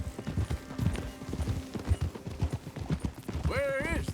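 Steady clip-clop of horse hooves at an even trotting rhythm, with a horse whinnying near the end, in the video game Red Dead Redemption 2.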